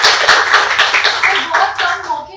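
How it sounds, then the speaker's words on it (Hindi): Close clapping from a small audience for lyricist A.M. Turaz, loud individual hand claps in a quick, uneven patter that grows sparser toward the end. "और उससे भी बड़ी तालियां हमारे सर के लिए,"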